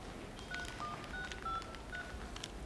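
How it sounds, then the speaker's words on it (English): Someone presses buttons on a telephone keypad, producing a rapid series of about six short dialing beeps over a steady hum of line noise. "please enter their student number and then press hash."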